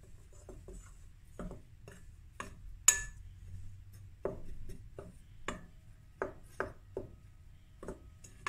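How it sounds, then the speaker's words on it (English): Dry koesister dough ingredients (flour, yeast, spices, naartjie peel) are stirred in a bowl, giving a series of sharp, separate scraping taps at an uneven rhythm, close and fairly quiet, with no talking. "now I'm going to stir the dry ingredients"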